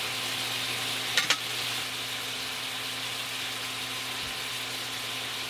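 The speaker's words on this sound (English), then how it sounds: "you want to let these saute until they're brown, that you want a nice little crisp to them" Scallops sauteing in a cast iron pan give a steady, even sizzle throughout, with two brief clicks early on and a soft knock near the end.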